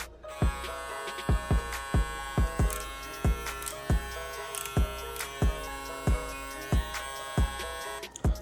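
A cordless hair clipper runs steadily with a buzzing motor hum, broken by a regular series of soft knocks roughly every half second, close and alone with no talking.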